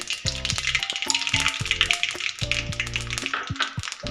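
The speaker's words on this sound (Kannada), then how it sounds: "ಈ ಸಾಸಿವೆ ಸಿಡಿದಾದ್ಮೇಲೆ ನಾನು ತೊಗೊಂಡಿರೋಂತಹ 1 ಸ್ಪೂನಷ್ಟು ಜೀರಿಗೆಯನ್ನು ಸಹ" Mustard seeds and cumin crackle and sizzle in hot oil in a pan, with a busy spatter of pops and small bursts over a steady fry, heard up close with no voices.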